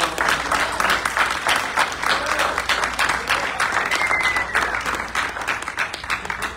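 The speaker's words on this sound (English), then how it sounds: "let's give her a warm clap" Church congregation giving warm applause as a woman comes forward to preach, a dense, sustained wash of many hands clapping at moderate distance throughout.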